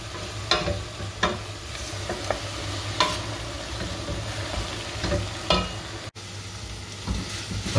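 Meat for chilli con carne sizzles steadily in a hot pan, with a spoon stirring and scraping now and then in sharp, close clicks over the constant frying hiss.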